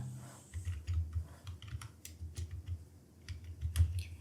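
Typing on a computer keyboard while entering data in an Excel sheet, a quick, fairly faint run of close key clicks with small gaps, no voice over it.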